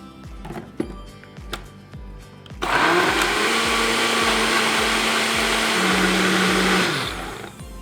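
A kitchen grinder starts up and runs loud and steady for about four seconds, blending green moong dal batter with water, a dense whirring roar that drops away at the end after some soft clinks beforehand.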